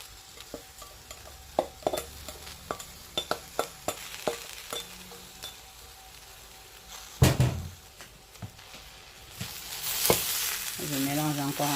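Turkey breast, cabbage, mushrooms and basmati rice fry in a pan with a steady sizzle, punctuated by sharp clicks and knocks of a utensil stirring and tapping the pan, and a louder clatter partway through.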